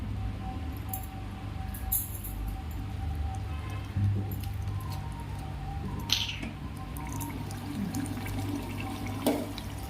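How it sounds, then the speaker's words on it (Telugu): Water added to a cooking pot of brinjal and chana dal curry, a near, steady pouring and splashing with a few louder drips and clinks over a faint background hum. "సరిపడా వాటర్ వేసుకుందాం"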